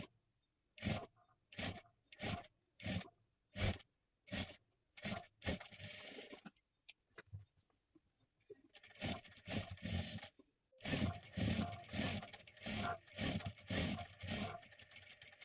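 A sewing machine stitches lace onto a blouse in short rhythmic bursts separated by pauses, then runs in longer continuous stretches, fairly close and moderately loud.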